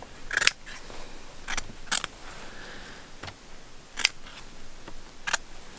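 Scissors snipping notches into rug backing canvas for a tufted rug, six or so sharp separate cuts spaced a second or two apart, close and distinct over a quiet room, no talking.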